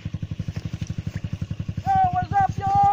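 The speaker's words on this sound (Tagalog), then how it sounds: "Namamatay yung motor mo" Dirt-trail motorcycle engine near a scenic viewpoint in Bahia, Bais City, Negros Oriental, putting along in a steady loud low pulse that stutters and falters, sputtering as if about to stall while a whining tone joins near the end.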